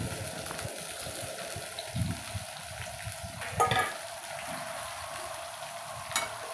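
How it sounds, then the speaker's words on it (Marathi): Stuffed brinjals laid into hot oil sizzle softly and steadily, with a few faint clinks and stirring bumps of a pan, quiet and close, no one talking. "वांग्यामध्ये जे मसाला भरून घेतलेला होता ते मी या तेलामध्ये आता एक एक करून ठेवत आहे"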